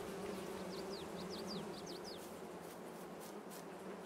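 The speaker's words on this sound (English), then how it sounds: "The bees going." Bees buzz in a steady, even drone around the hives of an outdoor bee farm, with faint birdsong chirps flickering over the constant hum.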